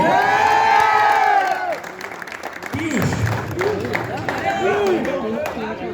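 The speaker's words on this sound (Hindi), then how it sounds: "तालियां बजती रहनी चाहिए" A crowd at a district basketball tournament closing ceremony cheers and applauds, with loud shouting and clapping mixed with voices and an announcer speaking over the noise.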